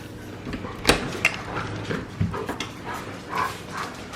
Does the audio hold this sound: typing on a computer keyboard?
no